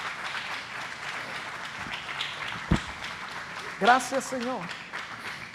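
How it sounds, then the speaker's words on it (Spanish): A church congregation gives a short burst of applause during a Sunday worship service, heard near the middle of the clip alongside someone speaking. "si le puede dar otra ofrenda de palmas a Dios con todo su corazón"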